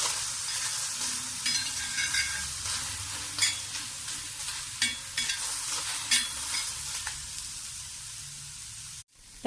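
Tomatoes roast with a steady sizzle in a hot pan, with occasional scraping stirs cutting through the continuous hiss.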